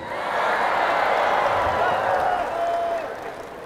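Sustained applause and cheering from a mosque or religious gathering congregation in Bulukumba, a dense steady wash of clapping that swells and holds before easing slightly near the end.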